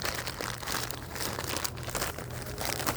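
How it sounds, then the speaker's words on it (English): A plastic bag, pulled out of a tin found while metal detecting in the woods, crinkles and rustles continuously up close, with soft crunching handling sounds. "Just a plastic bag."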